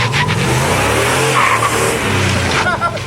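A truck with a broken front driveshaft does a burnout in four-wheel-drive low at a burnout competition, its engine roaring loud and close while the tires squeal and skid, with voices mixed in.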